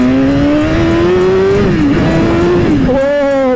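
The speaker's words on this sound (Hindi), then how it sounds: "दहाड़ती है यार ये बाइक" BMW S1000RR superbike engine roaring in Delhi, a loud, sustained high-pitched howl that rises, dips and climbs again as the revs change, with voices mixed in.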